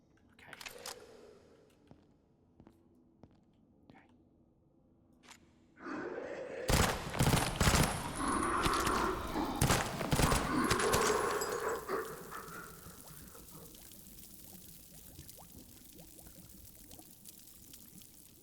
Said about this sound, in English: I don't think I needed to hear the bubbling of acidic flesh with the level of clarity which I was just afforded